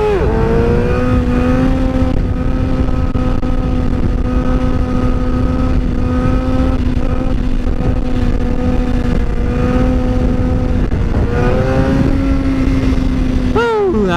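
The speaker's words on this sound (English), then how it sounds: "I'm gonna end this vlog with a wheelie" A motorcycle held at steady high revs during a wheelie, a loud continuous engine drone with a brief dip and recovery near the end, alone with no talking.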